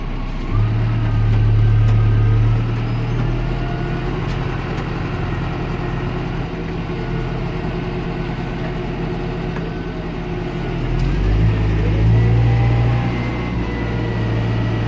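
A 2018 Claas Ares 557 ATZ tractor with an FL 120 loader drives steadily, its diesel engine a loud, continuous rumble that swells briefly near the start and again near the end as it shifts through the gears smoothly.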